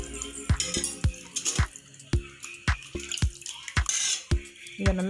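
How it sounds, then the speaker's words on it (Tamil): Goat intestines being rinsed in hot water in a kitchen, with a series of distinct wet drips and splashes falling at an irregular rhythm, close by, and light clinks of utensils in between. "ஹாட் வாட்டரில் நம்ம வாஷ் பண்ணிட்டோம்"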